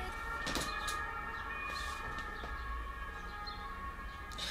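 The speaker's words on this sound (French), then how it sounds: "Il y a tout le temps des ambulances, ça va les gens?" A faint ambulance siren wails in the distance beneath a steady hum of background noise, rising and falling without pause.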